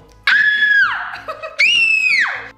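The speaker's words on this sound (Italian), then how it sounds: "Fai un urlo." A woman gives two loud, sustained screams in quick succession, close and piercing, each held for about a second with a brief gap between them.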